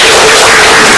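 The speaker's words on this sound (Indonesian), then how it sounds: "tepuk tangan kita untuk ya." A class of students breaks into loud, continuous applause, many hands clapping at once in a dense, steady burst up close.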